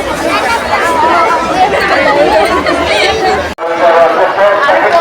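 Dense crowd chatter at Someshwar temple, many overlapping voices close by, steady and loud throughout with a brief cut near the end.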